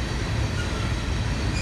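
A BNSF grain train with a single engine rumbles past nearby in a steady, continuous roar of wheels on rails.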